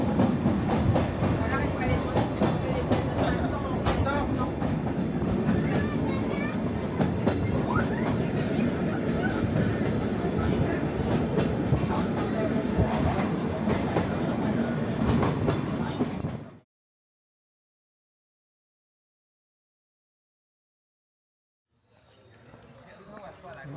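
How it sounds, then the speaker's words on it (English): A scenic train in Kyoto rumbles along the rails with a dense clatter for a long stretch, then the sound suddenly drops away to near silence before a faint rumble returns. "Scenic train in Kyoto."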